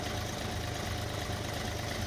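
A Tata Tigor car engine idles steadily during an oil and filter service, a continuous low rumble with mild vibration and no talk, close and even throughout.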